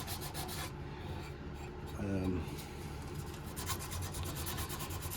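Wood being sanded down in a bushcraft setting, a steady dense rubbing rasp running throughout at close range, with a voice talking over it.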